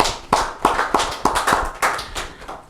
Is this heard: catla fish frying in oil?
no